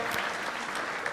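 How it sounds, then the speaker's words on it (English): Audience clapping warmly at a preschool and primary school graduation ceremony, a dense burst of applause from a crowd indoors, steady and fairly loud throughout the short stretch. "Please, I want you to put your hands together for him."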